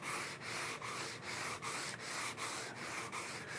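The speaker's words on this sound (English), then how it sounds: "you're just basically sanding those edges" Hand sanding of wooden edges with a sanding block, steady rhythmic back-and-forth strokes of about three per second, a soft gritty rasp close up and alone, with no voices.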